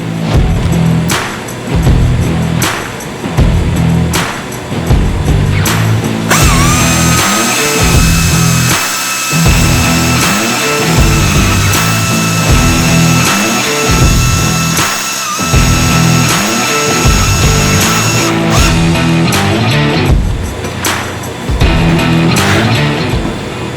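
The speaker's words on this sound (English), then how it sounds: "we're going to cut this bumper up and see what we got to make happen" A power tool cuts up the bumper of a widebody Honda Prelude time attack car in loud, repeated bursts of whirring and grinding, with a sustained high-pitched cutting whine in the middle stretch.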